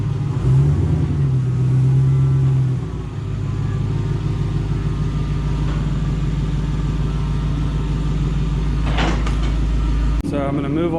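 A car engine idles and revs as the vehicle pushes against lift ramps. There is a loud rumble with a brief rising rev early on, then steady low drone and a couple of clunks near the end.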